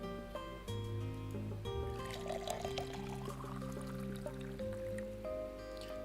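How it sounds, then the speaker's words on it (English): Steaming coffee pours from a pot in the visual novel game Flowers Automne, a soft steady stream running under quiet background music. "she pours the steaming liquid from the pot"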